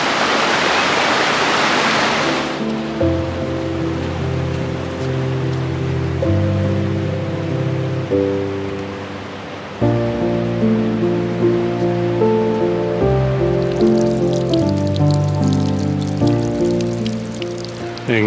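A snowmelt-fed mountain creek at Slide Rock State Park near Sedona, Arizona, flows strongly in winter, giving a loud, steady rushing wash of water close by with no talk over it.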